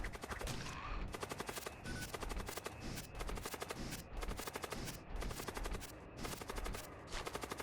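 Rapid machine pistol gunfire from the space combat video game Void War, heard as dense, loud rattling bursts of shots in quick succession with brief breaks between volleys, and no talking.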